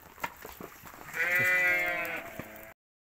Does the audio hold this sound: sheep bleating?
yes